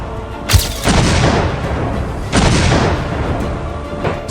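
Indian army artillery shelling near the Line of Control in the Keran sector: two heavy booms, the second about two seconds after the first, each rolling into a long loud rumble.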